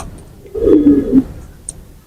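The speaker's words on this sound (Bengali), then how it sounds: "খুবই ভালো মানের একটা হাই ফ্লাইং কবুতর" A high-flying pigeon gives one close, low, throaty coo lasting about half a second, surrounded by faint background hiss and small bumps.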